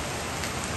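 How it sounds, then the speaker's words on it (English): Heavy rain pours down in a steady, dense hiss, continuous and fairly close, with no pauses or voices. "it's raining very hard now"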